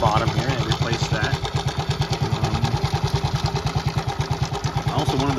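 A 1972 Honda CT70 motorcycle engine idles close by, steady rapid single-cylinder putter with even pulsing beats throughout, loud and clear.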